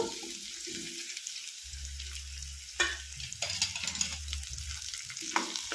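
Onions and cut potatoes frying in a pan while being stirred, an uneven sizzle broken by scraping and clattering stirs, with a low rumbling hum underneath, no speech.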